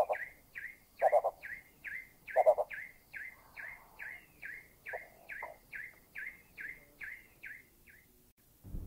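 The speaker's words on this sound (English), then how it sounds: "Number 15, the blue-bearded bee eater. The monotonous call in the foreground is the hill prinia." A hill prinia repeats a monotonous chirping call close in the foreground at a steady rhythm, while a blue-bearded bee-eater gives a few deeper, louder bursts behind it, recorded in Thailand.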